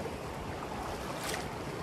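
A river's strong waves rush over slippery rocks in a steady, broadband roar of churning water. The sound is constant and close, with wind buffeting the microphone and no voices.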